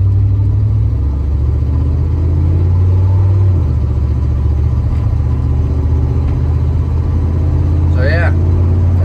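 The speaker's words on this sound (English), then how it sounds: "my exhaust is not fixed, as you can hear" Van engine with a broken exhaust idling, a loud steady low rumble that runs the whole time and shifts in pitch early on, while a person talks over it.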